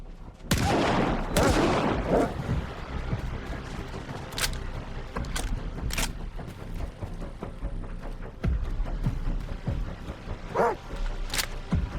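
Several dogs bark and yip in the S.T.A.L.K.E.R. 2: Heart of Chornobyl video game amid bursts of gunfire: sharp, loud shots at the start, then scattered shots and barks continuing over a steady noisy background.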